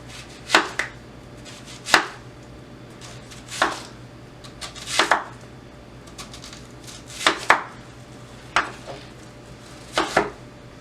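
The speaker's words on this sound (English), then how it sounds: "We are going to now take our onion and we're going to cut this. We're going to kind of dice it up as well." An onion being diced with a knife on a cutting board, camp-stove cooking for potato soup: sharp, close knife strikes in irregular clusters of two or three, alone with no talk.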